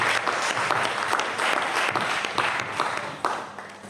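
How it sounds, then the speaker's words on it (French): An audience applauds a stage performer in a steady, dense burst of clapping that carries on for several seconds, with faint voices mixed in beneath. "Applaudissez pour vous."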